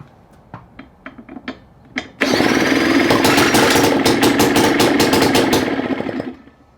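A Craftsman Japanese backpack blower engine, starved of fuel, gives several short sputtering pulls before catching and running loudly with an uneven, knocking rhythm for a few seconds, then fading as it dies.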